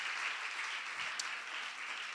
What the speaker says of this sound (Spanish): Dele aplauso al Señor en esta hora.